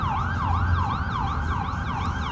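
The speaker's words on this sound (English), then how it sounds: "let me give this ambulance about a couple seconds here." An ambulance siren wails on a Washington DC street near a hospital, its rapid up-and-down sweeps repeating steadily and fairly close over a low traffic rumble.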